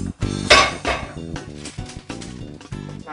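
A raw chicken breast is pounded flat with a wine bottle, giving a quick series of hard knocks and glassy clinks against the board, loud and close, about a dozen strikes in uneven rhythm.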